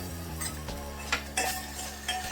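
Green chilli and garlic thecha being stirred into Maharashtrian varan dal in a pot, with a soft sizzle and a few scraping stirs and clinks of a spoon against the vessel.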